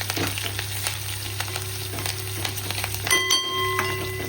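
Steady oil sizzle and crackle of curry leaves frying in hot oil in a pan, close and continuous, with a brief metallic clink near the end.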